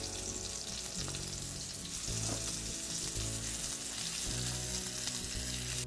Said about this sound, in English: we're going to cook it on each side for about 3 to 4 minutes